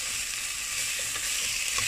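Chicken feet sizzle and fry loudly in a hot pan for braised adobo, a steady dense crackle with faint scraping from stirring, no voices.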